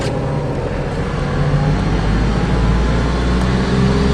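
Diesel caravan engine cruising steadily in fifth gear, a continuous loud low rumble with a broad, even road drone throughout and no speech.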